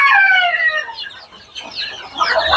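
Desi chickens on a farm crow and cluck close by, with a long drawn-out rooster crow at the start followed by a busy run of clucking and squawking from several birds, no talk.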